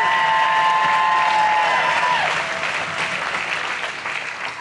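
Dense applause fills a room at a Lincoln Day political dinner, loud and steady at first with some cheering, then gradually thinning and fading toward the end.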